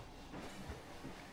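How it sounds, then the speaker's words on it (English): A steampunk-styled roller coaster train in Planet Coaster rumbles and clatters along steel track, a steady low mechanical rattle with a few louder knocks, heard up close. "And here comes the train."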